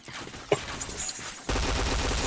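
Gunfire in an online shooter match during a chain of headshots: a sharp burst of shots early on, then a dense, loud rapid volley of fire filling the second half, with no talk.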